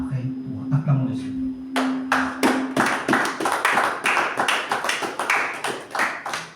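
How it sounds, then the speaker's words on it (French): A church congregation claps to acclaim the Lord, after a brief voice comes loud, steady rhythmic clapping from many hands. "Acclamons le Seigneur."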